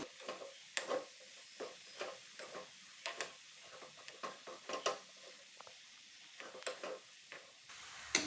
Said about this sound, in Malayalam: ഇതെല്ലാം നന്നായിട്ടൊന്ന് ഇളക്കി കൊടുക്കും.